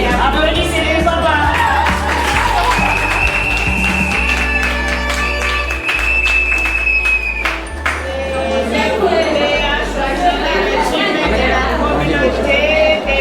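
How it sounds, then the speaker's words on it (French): Guests at a civil wedding ceremony break into sustained loud clapping and cheering that fills the room throughout, with crowd chatter mixed in and a few tonal pings above the applause. "Applaudissez, applaudissez."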